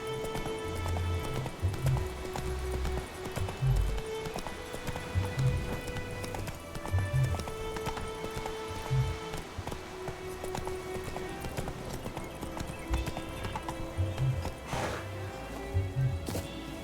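Roach the horse gallops in The Witcher 3, steady rhythmic hoofbeats clip-clopping on and on beneath layered game music throughout.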